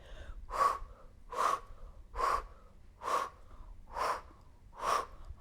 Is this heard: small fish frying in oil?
no